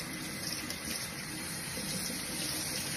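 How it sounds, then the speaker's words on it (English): Water running from a bathroom tap, a steady, fairly loud rushing flow that continues without a break, with no talk. "you first have to turn on the water so it's hot, but not so hot that it's going to hurt you"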